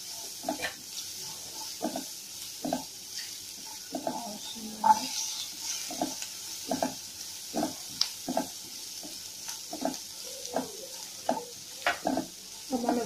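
Curry leaves frying in oil for Indian-style masala oats upma, a soft steady sizzle beneath repeated light taps and scrapes of a spoon stirring in the pan.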